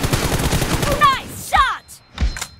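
Rapid M416 rifle bursts in a team deathmatch video game, close and loud in the first second, followed by sharp chirping effect tones and a couple of short trailing shots.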